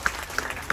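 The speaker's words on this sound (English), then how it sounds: "Let's give them a round of applause." Audience aboard the cruise ship Enchanted Princess giving a round of applause, fairly faint and distant, a steady patter of claps with a few sharper hits standing out.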